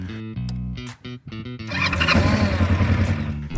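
Kawasaki KLE500 parallel-twin motorcycle engine cranks in short bursts, then catches and idles with a close, rough, throbbing rumble.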